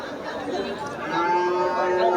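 Cattle lowing amid a busy market, with crowd chatter and voices underneath; the moos are fairly close and blend into the steady background noise.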